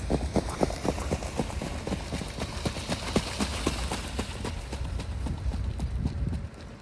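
A trotting racehorse's hooves clip-clop in a fast, steady rhythm on a track, the sharp beats continuous and moderately close, fading slightly at the end.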